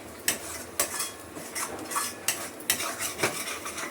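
Spinach is stir-roasted in a kadhai over a high flame, with sharp metal spoon scrapes and clinks at irregular intervals over a faint sizzle, close by and without speech.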